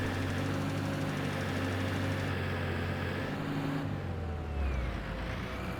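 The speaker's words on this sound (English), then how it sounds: "Let's get our tractor off the field." A tractor engine in the Farming Simulator 25 video game drones steadily and loudly throughout, a continuous low mechanical hum with no talking over it.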